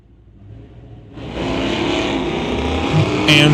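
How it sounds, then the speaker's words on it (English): Two drag cars, a DeSoto and a 1985 Chevy Regal, each with a 355 cubic inch engine, launch at a street-legal drag race; engine roar swells sharply after a second and holds loud and steady, with a brief burst near the end. "bringing it up first with Kai Jessamine, the DeSoto, racing the 85 Chevy Regal. Both cars sporting 355 cubic inch engines underneath them."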